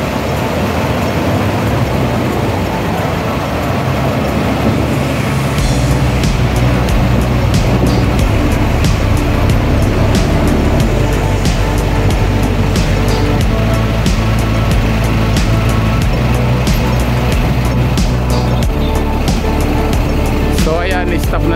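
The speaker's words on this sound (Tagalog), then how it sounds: "Ayan, karamihan po na bus dito ay KMB." KMB city buses and other traffic move through the Nathan Road and Jordan Road intersection in Hong Kong, a continuous rumbling road noise that swells louder partway through, with a voice talking over it.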